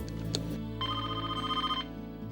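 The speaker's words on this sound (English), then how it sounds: "So I went over to the phone and dialed up Jonathan" A telephone ringing after a number is dialed: a steady electronic ring tone sounds for about a second, clear and close over a low background hum, with no talking.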